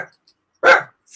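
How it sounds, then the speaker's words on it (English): A dog barking indoors, one loud, sharp, close bark followed by the start of another, with quiet gaps between. "He decides to bark now."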